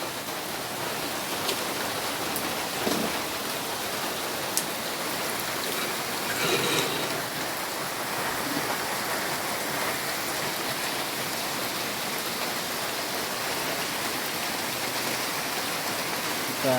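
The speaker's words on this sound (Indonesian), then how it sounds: "Hujannya gede banget guys." Heavy rain pouring steadily along a rural village route in Garut, a dense, continuous hiss of rainfall throughout with no let-up.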